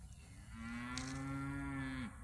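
A cow on a farm lets out one long, steady moo lasting well over a second, loud and close, with no voices during the call.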